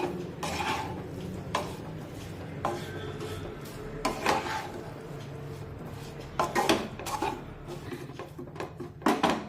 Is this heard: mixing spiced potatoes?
yes